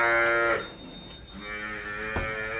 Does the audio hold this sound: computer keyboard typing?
no